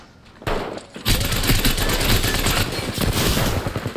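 Rapid automatic gunfire from the video game Apex Legends, played in ranked mode on PS5, bursting in loud and close after a quiet half second, then sustained dense shooting with heavy thuds.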